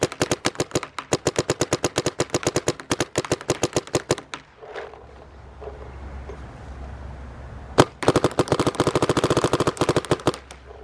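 A Dye M2 MOS Air paintball gun fires in semi-auto, with a loud, fast string of sharp, evenly spaced shots for about four seconds, a pause with only faint background hiss, one lone shot, then another quick burst.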